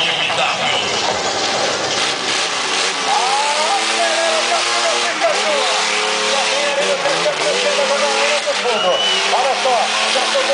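A BMW stunt-show car revs hard, its engine note climbing and falling in continuous sweeps over a loud crowd and background voices.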